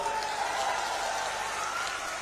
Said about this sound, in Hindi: आइए विजेंद्र बाबू के लिए जोर दी ताली बजाइए जरा।